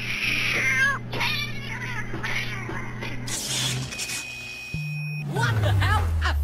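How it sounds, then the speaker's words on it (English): Cartoonish cat meows and caterwauls in a chaotic video game, rising and falling cries repeating over a steady low electronic hum, with game effects, a high whine and people talking throughout. "A runaway cat!"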